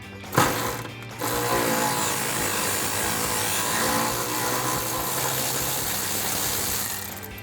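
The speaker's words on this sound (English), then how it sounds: "I'm using my extension and my 10mm socket to remove that bolt" A 10mm socket on an extension turns a bolt on a Toyota Tacoma reservoir bracket, making a loud, steady mechanical whirr that runs almost the whole time after a brief clank at the start.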